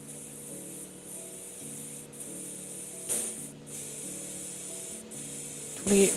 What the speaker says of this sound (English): Spray a little paint through